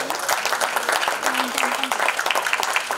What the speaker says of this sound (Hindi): जरा जोरदार तालियां हो जाए।